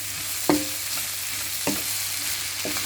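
Fried prawn, chicken and noodles being stirred in a pan, with three separate scraping strokes spaced about a second apart over a steady background sizzle.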